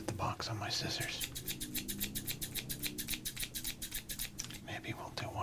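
Scissors being handled and shifted beside a box of sports cards, giving a rapid series of crisp close snipping and scraping clicks in a steady rhythm, with soft whispered speech underneath.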